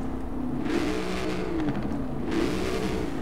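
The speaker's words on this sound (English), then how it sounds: "That's not what a Mustang sounds like." A Ford Mustang engine in the video game Forza Horizon 4 revs up and eases off twice in a steady, synthetic-sounding loop, droning continuously with no voices.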